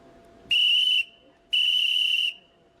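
A race-start whistle at a backyard ultra world championship gives two loud, shrill blasts, each about half a second to a second long, separated by a brief gap.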